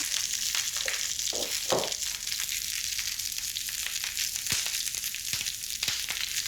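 Endive halves hit a hot pan and fry with a steady, close sizzle, broken by a few louder crackles and spits in the first couple of seconds.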